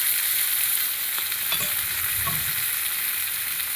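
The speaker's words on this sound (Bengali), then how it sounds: "এবারে দিয়ে দেবো পেঁয়াজ কুচি আর টমেটো কুচি," Chopped onion and tomato fry in hot oil with a loud, dense, continuous sizzle and a couple of faint stirring knocks partway through.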